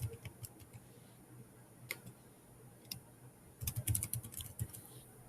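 Light keystrokes on a computer keyboard, scattered taps at first, then a quick cluster of typing near the end, quiet and close in an otherwise still room.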